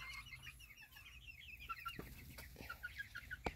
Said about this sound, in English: That chicken eating my foot.